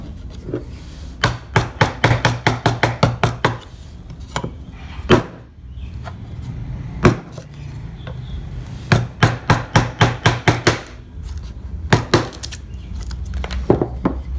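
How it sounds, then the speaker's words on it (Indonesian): A flat gouge chisel struck with a mallet to carve wood, producing rapid runs of sharp, close knocking taps in bursts separated by short pauses. "Yang ini kalian gunakan pahat kol yang ceper atau yang jebek seperti ini untuk mempercepat pekerjaan ya."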